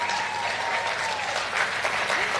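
An audience applauds steadily, a dense wash of clapping from a crowd that holds for the whole moment.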